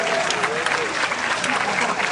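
Dense, continuous audience applause at a large Indonesian stage event, a full roar of many hands clapping at once, loud and sustained from start to finish with crowd noise mixed in.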